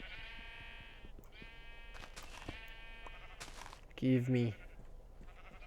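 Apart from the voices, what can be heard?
sheep bleating in the video game Minecraft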